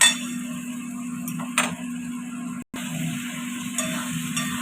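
A mixture being sautéed in a pan after ginger-rinsing water is added gives off a steady sizzle, broken by a few quick stirring scrapes and clinks and one brief gap.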